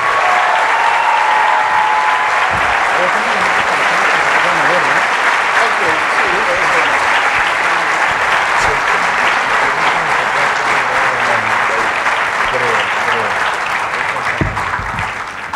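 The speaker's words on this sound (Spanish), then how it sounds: "Un fuerte aplauso a Agustín Laje" An auditorium audience in Mexico gives Agustín Laje loud, sustained applause, a dense wash of clapping that holds for the full length and fades slightly at the end.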